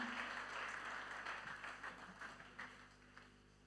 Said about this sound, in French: Yes, clap for Jesus.